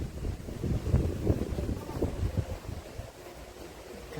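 Sea waves roar beside a small coastal hillock at Nandivade, a low rumbling surge mixed with heavy wind buffeting on the microphone.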